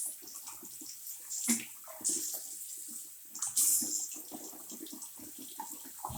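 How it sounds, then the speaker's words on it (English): Tap water runs into a bathroom sink while someone rinses their mouth after flossing during a morning skincare routine, a steady splashing stream with brief louder gushes and no talking. "Once I finish flossing, I rinse my mouth out again."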